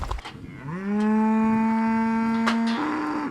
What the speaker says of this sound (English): the air is soon filled with swinging lariats, the sound of bellowing cows